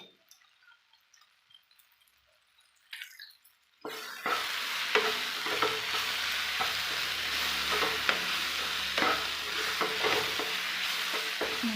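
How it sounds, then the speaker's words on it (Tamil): Spinach and potato curry stirred in a hot pan, a steady sizzle with repeated scraping strokes of the spoon that starts after a few quiet seconds of small clicks and continues close and loud. "நல்லா கிளறிக்கலாம்"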